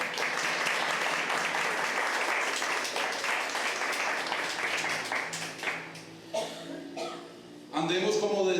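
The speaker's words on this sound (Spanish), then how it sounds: "Dale un gran aplauso" A church congregation applauds loudly during a sermon, the clapping holding steady for several seconds before thinning out, followed by scattered coughs and a voice rising near the end.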